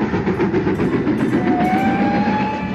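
A train runs with a steady, dense rumble and rattle throughout, loud and near, while a thin, sustained whistle tone rises faintly above the noise partway through.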